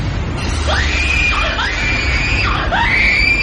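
A woman screams in a horror story, a long, loud, wavering shriek that rises and falls twice over a steady rumble like sea waves.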